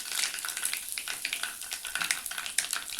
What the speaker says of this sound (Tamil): கடுகு நல்லா பொரிய ஆரம்பிச்சிருச்சு.